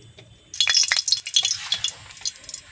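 Oil heating in a pan before frying fish marinated in salt and turmeric, with a close hiss and sizzle that starts suddenly and then crackles unevenly and fades a little, with no talking.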